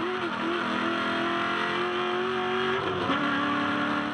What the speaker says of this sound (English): You can just see him grabbing fourth gear through turn 3.